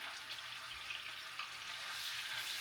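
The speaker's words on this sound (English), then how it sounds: "And these are going to fry till I am satisfied with their shape and color." Shrimp frying in a pan for firecracker shrimp, a steady close hiss and crackle of sizzling oil that holds evenly throughout with no talking.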